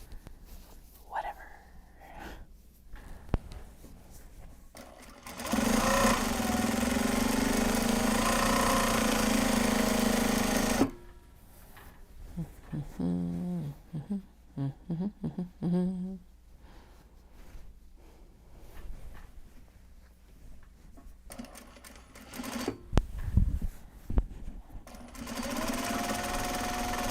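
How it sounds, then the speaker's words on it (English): A sewing machine runs in long steady stretches while it stitches bags from Japanese fabric, loud and close, with quieter pauses and bursts. A person talks softly between and over the stitching. "we're just going to keep sewing"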